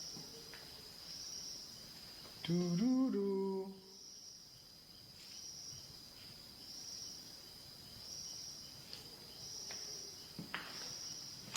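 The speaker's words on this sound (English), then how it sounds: "The cricket is so loud." Crickets chirp steadily at night outside a mausoleum, a faint high repeating trill running throughout, while a voice briefly hums a short tune partway through.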